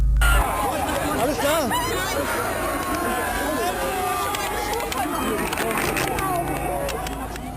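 A dense, panicking crowd in a tightly packed street, a continuous roar of many overlapping shouting and screaming voices, loud and chaotic throughout with no single voice standing out.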